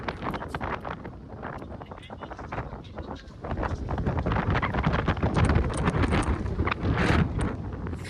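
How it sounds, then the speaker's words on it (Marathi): Wind buffeting the microphone at a hill station in Chikhaldara, Amravati, a rough, gusty rumble that grows stronger midway, with a person talking over it. "काहीच गार हवा लागत आहे, गार हवा लागत आहे, थंडी थंडी."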